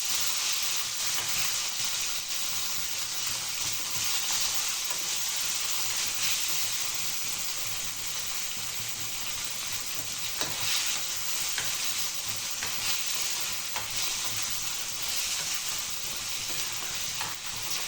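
Steady sizzling of food frying in a pan, with scraping and stirring sounds throughout, close and continuous with no talking.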